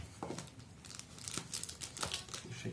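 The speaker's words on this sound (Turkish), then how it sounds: "bantla hava almasını engellemek için, sera etkisini yapmak için güzelce bantlıyoruz" Adhesive tape is pulled and pressed around plastic to seal in hydrangea cuttings for rooting, giving continuous close crinkling and tearing rustles with no speech.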